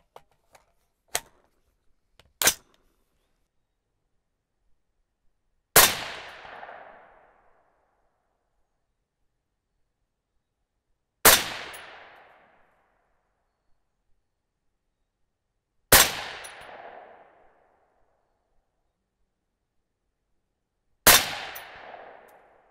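Single 6.5 Creedmoor rifle shots firing 130-grain Berger Hybrid bullets loaded over Reloder 15.5 powder: three close early cracks, then four loud separate blasts spaced several seconds apart, each with a decaying echo tail, no talking.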